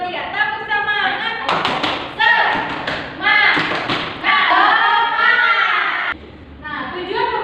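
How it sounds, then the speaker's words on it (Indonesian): Children in a classroom give a rhythmic spirit clap, sharp claps and thumps in quick patterned bursts, mixed with a teacher's voice and kids' chanting. "Tepuk semangat. Ayo, 1, 2, 3. Tepuk semangat."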